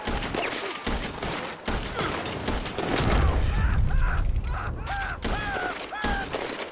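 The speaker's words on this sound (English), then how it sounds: "I'm shooting him when he's not dying. Even through wood." Gunfire in the Red Dead Redemption 2 video game, with sharp shots cracking out repeatedly in an ongoing firefight. Mechanical clicks and game effects accompany the shots, and a low rumble builds in the middle.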